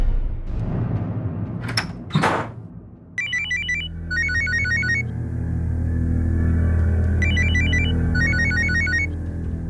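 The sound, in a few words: phone ringing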